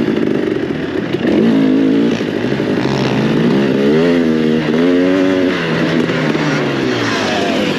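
An enduro motorcycle runs a dusty lap on a German off-road course, its engine loud and close, with revs climbing and falling in continuous sweeps of acceleration and shifting.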